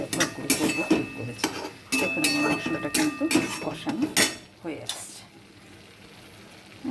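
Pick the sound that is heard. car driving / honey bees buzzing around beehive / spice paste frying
spice paste frying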